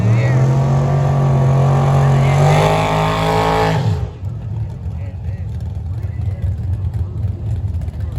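A drag racing car at a drag event launches hard, its loud engine roar climbing steadily for about four seconds before cutting off abruptly, leaving crowd murmur and distant engine noise, with people talking nearby.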